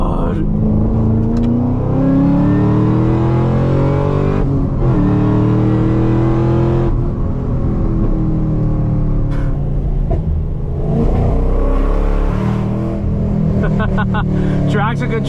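A 650 HP Camaro ZL1 engine revs and accelerates hard from the driver's seat, a loud, rising, harmonic roar climbing through gears with brief dips at shifts, while someone talks over it.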